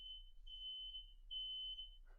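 Small smoke detector chirping high and steady in a quiet room, a thin continuous tone with slight pulsing, faint and alone under a low background hum.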